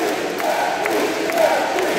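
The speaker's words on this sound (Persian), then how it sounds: "تشویق میکنه تماشاچی حاضر در سالن" A full crowd cheers inside a packed wrestling hall during a 2022 heavyweight 130 kg bout between Cuban wrestler Lopez and a German opponent. The sustained roar of voices swells and dips in the background.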